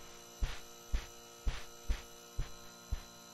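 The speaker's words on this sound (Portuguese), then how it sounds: "eu vou ficar com esse barulho de geladeira mesmo" A steady refrigerator-like mains hum drones in the game Inside the Backrooms, with six evenly spaced low thumps pulsing over it like a heartbeat, and no voices.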